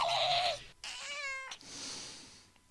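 A single cat gives a drawn-out, close meow with a clear wavering pitch, followed by a softer trailing cry, heard alone without any talk.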